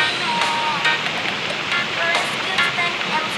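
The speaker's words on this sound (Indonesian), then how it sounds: "inilah dia sobat lokasi air terjun Manduriang" Manduriang waterfall, a hidden falls about 100 metres high, sends a steady, hissing rush of falling water from some distance. Someone talks over it at moderate level.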